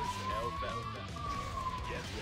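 Wailing police siren inside the fighting game Guilty Gear Xrd REV 2, a long rising-and-falling tone mixed under game music and effects, moderately loud and continuous.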